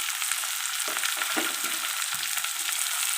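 Ginger fries in hot oil in a pan for a Tamil egg curry, a steady close sizzle throughout with soft stirring scrapes and no talking.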